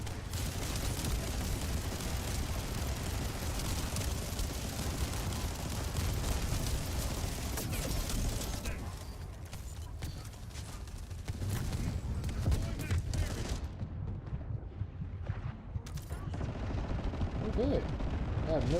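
Gunfire in the video game The First Descendant: dense, rapid, continuous shooting with heavy impacts throughout, briefly easing midway before picking up again, with a voice talking over parts of it.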